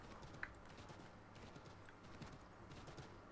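Galloping horse hooves in Assassin's Creed III, a faint, even run of clip-clop beats over soft game background, with one brief sharp click near the start.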